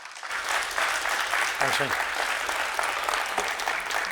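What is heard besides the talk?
audience applause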